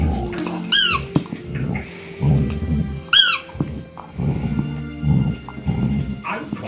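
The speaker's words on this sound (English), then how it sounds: "Do you want to play with Squeaky?" A border collie plays with a squeaky toy, producing two sharp, close squeaks a couple of seconds apart, mixed with the dog's soft whimpers, snuffling and movement noises.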